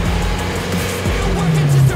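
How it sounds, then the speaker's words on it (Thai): An Isuzu D-Max V-Cross fitted with an HKS exhaust revs nearby, its engine note rising and falling in short sweeps over two seconds with a steady rumbling drone. "ท่อไอเสีย HKS เพิ่มแรงม้าอัตราการเร่งดีขึ้นเสียงเพราะขึ้นหวานขึ้นนะครับ"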